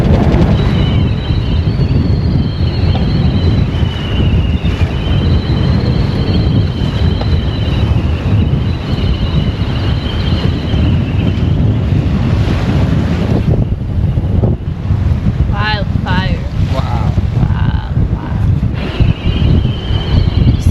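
Strong coastal wind and surf on Australia's rugged coast, a steady roar of wind noise buffeting the microphone over breaking ocean waves, continuous and loud throughout with no talking.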